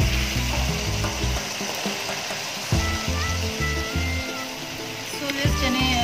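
Boiled black chickpeas fry in a spice masala with a continuous hissing sizzle, mixed with steady tonal background sounds.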